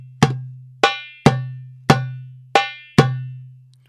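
Darbuka playing a Malfuf-family doom doom tak pattern, six sharp, ringing hand strokes with deep resonant dooms and bright taks, close and loud with no talk.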